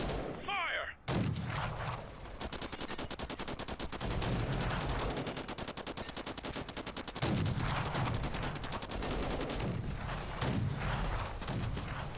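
Heavy tank gunfire in the Fallout video game: after a brief lull, rapid continuous bursts and booming shots roll on for many seconds, loud and dense, with explosions layered over the automatic fire.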